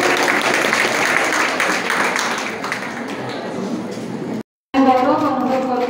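An audience applauds at a college's 48th foundation day ceremony, a dense burst of clapping that fades after a few seconds. A brief silence follows, then a voice speaks.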